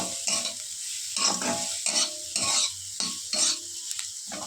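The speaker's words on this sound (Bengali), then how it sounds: "ভাজা মশলাটা দিয়ে নাড়ালাম।" Sago pulao being stirred with roasted spice in a pan (kadai), a series of scraping, rustling stir strokes with light sizzling, close and moderately loud, with no talking.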